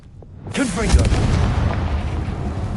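A Confringo blasting spell from Hogwarts Legacy erupts with a sudden loud boom, then a rumbling, crackling burst trails off for a couple of seconds, sitting close and heavy under faint game ambience.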